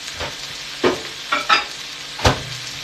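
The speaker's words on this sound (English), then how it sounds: "It's on medium heat right here, and we are making some salmon." Salmon fries in a pan on medium heat with a constant sizzle, broken by four sharp scraping stirs at uneven intervals, close and fairly loud.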